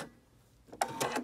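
A sewing machine stitches a fabric shirt extender in short bursts: quiet at first, then a burst of rapid mechanical stitching near the end, fairly close and with no talking.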